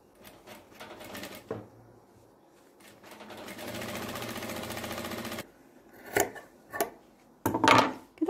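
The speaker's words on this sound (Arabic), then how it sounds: "بنخيط وانتي شاده زي ما انتوا شايفين" A sewing machine stitches elastic into a waistband while making a skirt, with short bursts at first and then a steady run of several seconds, followed by a few quick stops and starts.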